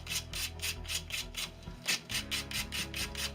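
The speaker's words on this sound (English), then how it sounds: "give that a light sand" Regular rhythmic strokes of sandpaper rub across a piece of non-aircraft-grade plywood for a wing rib, about a dozen quick back-and-forth rasps heard close up with no talking.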